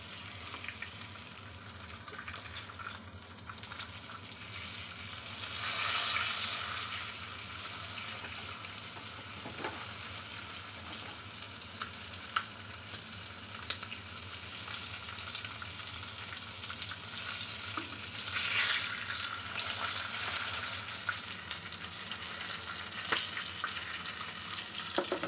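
Chicken feet frying in a pan give a steady, close hiss of oil across the whole stretch, swelling louder at a few moments, with faint clinks now and then and no talking.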